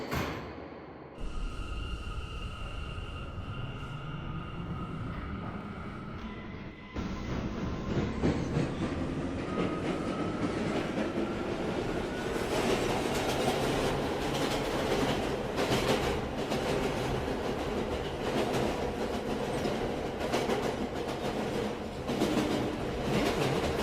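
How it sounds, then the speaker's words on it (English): A Bronx-bound D express train on the New York subway runs at speed, with a loud, steady roar and rhythmic wheel clatter that swells after a few seconds and stays close throughout. "This is a Bronx-bound D express train."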